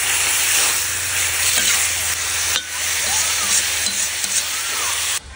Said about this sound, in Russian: еще разок перемешать